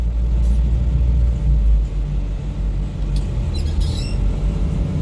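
A 1964 Chevrolet Impala after restoration rumbles along on the road, a steady low engine and road drone with a few faint squeaks and rattles over it.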